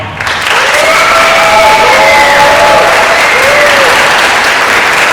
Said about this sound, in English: give a round of applause to help me.